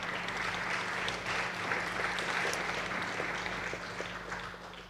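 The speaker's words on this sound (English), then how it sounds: "one more time for applause." An audience at a tech conference livestream applauds after a talk, with sustained, dense clapping that stays even throughout and ends without any speech.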